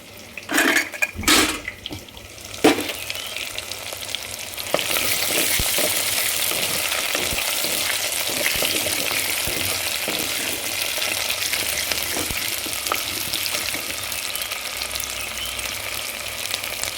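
Garlic sautéing in a pan for a village-style pepper kuzhambu with drumstick: a few sharp clinks at first, then a steady loud sizzle with faint stirring scrapes underneath.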